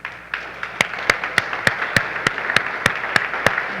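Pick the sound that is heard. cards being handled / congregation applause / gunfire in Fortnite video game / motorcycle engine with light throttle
congregation applause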